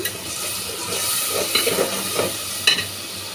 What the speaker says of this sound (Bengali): এগুলো আবার তেলের মধ্যে একটু ভেজে নিচ্ছি।